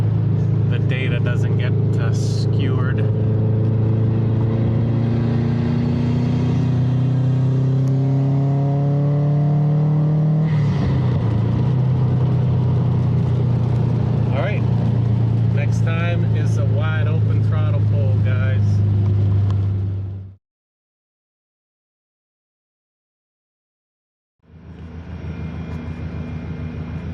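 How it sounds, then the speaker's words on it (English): Exhaust from a tuned 2017 Subaru STI booms and echoes in an underground garage, a loud low drone that rises and settles, then cuts to silence before the rumble returns. "we're back just to hear the underground garage exhaust noises"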